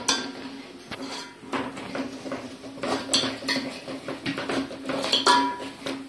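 A spoon clinks and scrapes against a pot as spicy Malvani masala is stirred into a crab curry, producing irregular close metallic taps and rattles over a low steady hum.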